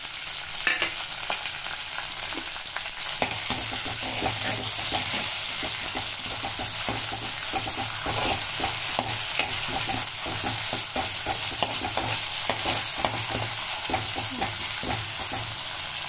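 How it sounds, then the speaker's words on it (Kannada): Mustard seeds crackle and pop steadily in hot oil, a dense close sizzle with sharp scattered pops, as Byadagi chillies and curry leaves are added for a tomato chutney tempering; a low hum runs underneath and no one speaks. "ನೋಡಿ ಯಾವ ರೀತಿ ಸಿಟಪಟ ಸಿಟಪಟ ಸಿಟಪಟ ಅಂತ ಇದೆ ಸಾಸಿವೆ"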